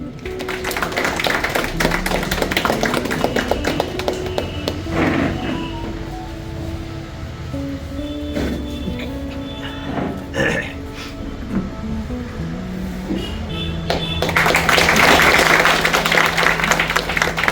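Audience applause at a yearly railway track maintainers' meeting: dense bursts of clapping open the clip, fade under someone speaking into a microphone, then swell loudly again near the end.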